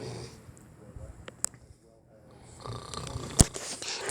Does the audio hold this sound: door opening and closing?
no